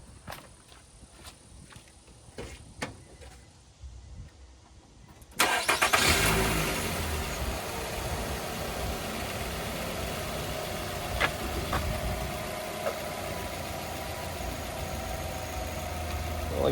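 A car engine cranks and catches after some clicks and light handling noises, then settles into a steady close idle that runs on with small knocks and clatter.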